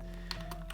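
Several quiet, quick keystrokes on a computer keyboard, close and isolated over a low steady background hum.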